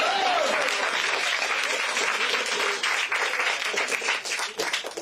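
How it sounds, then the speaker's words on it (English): Audience applause at a campaign event at a Waffle House in Marianna, a steady wash of clapping filling the room from start to finish, moderately loud, with scattered voices mixed in. "Please clap."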